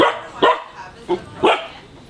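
Dog barking in short, loud bursts, about three barks spaced irregularly, at a pet supply store rescue adoption event where Bernese golden retriever mix puppies just over three months old are present.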